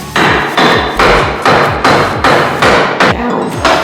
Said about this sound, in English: Use your mallet some more.